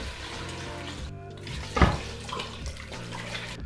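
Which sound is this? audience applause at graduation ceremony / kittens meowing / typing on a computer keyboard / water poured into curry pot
water poured into curry pot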